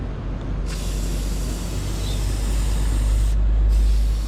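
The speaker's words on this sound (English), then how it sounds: "Spray around where that CV axle is going to be sealing." A can of brake cleaner sprays in a continuous aerosol hiss around the CV axle seal area of a Ford Fusion, one long close burst that briefly cuts out near the end.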